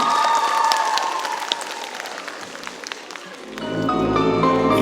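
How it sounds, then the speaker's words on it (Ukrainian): A crowd applauds after a cosplay duo performance, clapping loudest at the start and thinning out, with a spoken or sung voice and music coming in over the last second. "Поприветствуем активно аплодисментами!"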